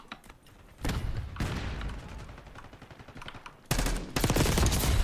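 Rapid automatic gunfire in Call of Duty: Black Ops 6 multiplayer, loud close bursts of rattling shots separated by short pauses, with heavier fire at the end.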